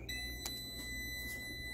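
A short electronic beep rings out once from an MPP Solar LV5048 inverter being switched on, with a steady high tone lingering underneath, clear and close with no voices.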